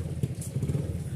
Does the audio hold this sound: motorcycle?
yes